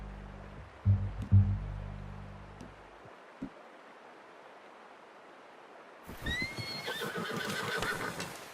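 Horse in Red Dead Redemption 2 gives a long, loud whinny in the final seconds, layered with hoof clip-clop and snorting, after low rumbles and a quiet stretch of game ambience.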